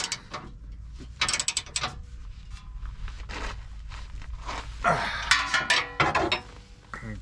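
Bolts on an aftermarket receiver hitch on a 2021 Ford Bronco are cinched tight, giving close, irregular bursts of metallic ratcheting clicks with short pauses between them and a low background hum.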